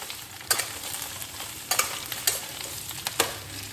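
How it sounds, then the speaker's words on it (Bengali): Flat beans and radish fry in oil in a pan, a steady close sizzle punctuated by several sharp scraping clacks of a spatula stirring at irregular intervals. "ওই তেলের মধ্যেই আমি শিম আর মূলোগুলো ছেড়ে দিলাম"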